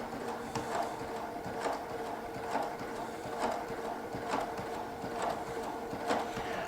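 A Baby Lock Sashiko machine stitching with 30 weight thread, a soft steady mechanical whirr with evenly spaced clicks repeating about once a second, fairly quiet and close.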